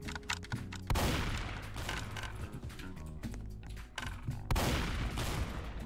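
Rapid SMG bursts in the online shooter Strucid, loud and dense with sharp repeated shots over game sounds, heavy volleys starting near one second and again near the end, no talking.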